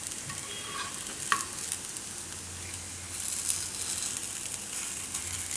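Beetroot appe dumplings fry in oil in a pan, giving a steady soft sizzle with light crackles and a few sharper pops and scrapes as they are turned; no talking.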